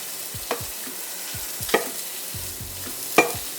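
Chicken sizzles in a frying pan with a soft, steady crackle, broken by a few sharp clacks and scrapes of a utensil stirring.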